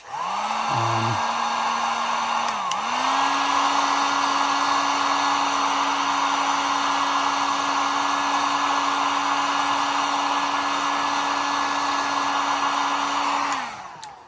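A heat gun blows hot air onto a part, a steady, loud, close whine with a strong airy hiss that runs unbroken for about fourteen seconds, with a brief dip in pitch early on.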